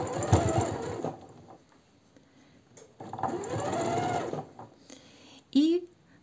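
A sewing machine stitches a silk blouse, running in two sustained bursts with a steady mechanical whir, close and fairly loud, with a brief sharper sound near the end.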